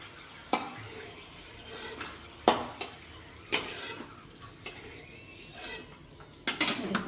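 Fried snacks being lifted out of a frying pan, quiet oil sizzle beneath several sharp clinks and scrapes of a utensil against the pan at irregular intervals.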